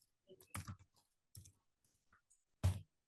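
A computer keyboard is typed on in a few short bursts of close, crisp key clicks separated by brief pauses, entering a website name in a quiet room.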